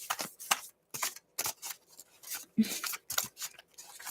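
A deck of tarot cards is shuffled by hand in quick, crisp bursts repeating roughly twice a second, close and alone without talk.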